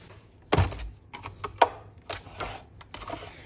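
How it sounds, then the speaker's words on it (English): A cut and emboss machine is set down on a craft table with one solid, close thunk, followed by a few lighter knocks and taps as it settles. "Now let's bring over the cut and emboss machine."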